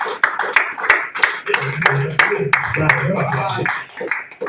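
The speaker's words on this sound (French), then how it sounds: "Est-ce qu'on peut acclamer pour papa Wally? Ah, acclame ce soir." A church congregation clapping to acclaim a pastor at a French-language worship service: a run of sharp, uneven handclaps close to the microphone, mixed with voices calling out and talking.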